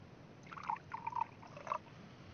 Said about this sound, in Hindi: एक बार इसमें पानी मिलाता हूँ थोड़ा सा